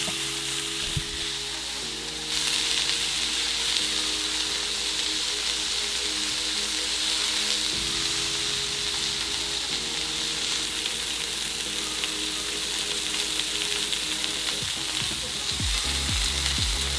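Low carb burger patties fry in a pan, a loud, continuous close-up sizzle and crackle that holds steady throughout with faint utensil noises near the end.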